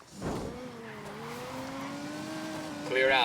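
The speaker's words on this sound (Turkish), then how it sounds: "Bir Lamborghini." A Lamborghini engine in the video game Ghost Recon rises in pitch through a sustained rev, with a louder surge at the end. Someone talks over part of it.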